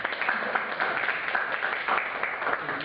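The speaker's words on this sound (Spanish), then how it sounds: "Fuertes palmas para él." An audience at a lecture on social conflicts claps for the doctor about to speak, a steady, moderately loud patter of hands, slightly muffled and continuous.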